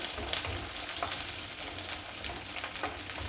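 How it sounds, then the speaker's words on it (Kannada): Chopped onion going into mustard seeds spluttering in hot oil, giving a dense, close sizzle with scattered pops and stirring scrapes throughout. "ಸಾಸಿವೆ ಸಿಡಿತಾ ಇದೆ ಈರುಳ್ಳಿ ಹಾಕ್ತಾಯಿದ್ದೀನಿ"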